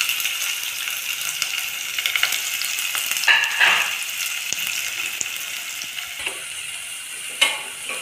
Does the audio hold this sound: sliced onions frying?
yes